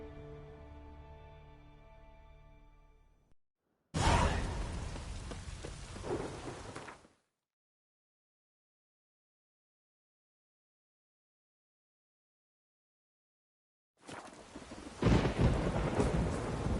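Rain and thunder in The Witcher 3: Wild Hunt come in two separate bursts, each a loud rumbling roar with a rainy hiss, with dead silence between them.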